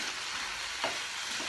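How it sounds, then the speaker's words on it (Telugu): Chopped mixed vegetables for a curry sizzle steadily in a hot pan, a loud continuous frying hiss with a brief stirring scrape near the middle, no voices. "కూరగాయ ముక్కలన్నీ ఇప్పుడు కొంచెం మగ్గనివ్వాలి"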